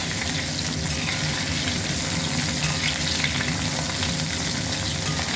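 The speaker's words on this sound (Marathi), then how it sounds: "आता हे जोपर्यंत लालसर होत नाही तोपर्यंत आपल्याला याला तळून घ्यायचं आहे" Soya chunks deep-frying in oil make a dense, constant, loud sizzle and crackle close by, even and unbroken, with no one speaking.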